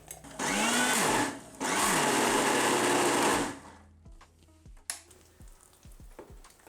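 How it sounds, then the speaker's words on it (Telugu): Mixer grinder pulsing red chilli pickle in a jar, two loud motor bursts of about one and three seconds with a brief pause between, followed by quieter clicks and handling noises. "ఈ మిశ్రమాన్ని మిక్సీ జార్లోకి వేసుకుని ఒక పల్సిస్తే సరిపోతుంది"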